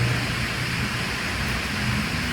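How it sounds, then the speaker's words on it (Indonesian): Rain drums on a zinc roof over an abandoned warehouse at night, a dense, steady, loud hiss that fills the whole moment without any break. "Mudah-mudahan kedengarannya suaranya, ini kan di atas seng ini, kedengaran suara hujannya mudah-mudahan."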